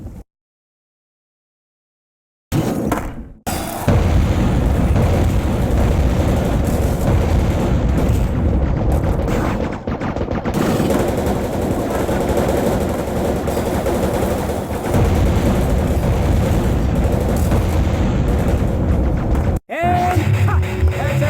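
Explosions from detonators in a PS2 video game, with a dense, loud run of booming blasts and rapid gunfire-like bursts that continues for about seventeen seconds after a short silence.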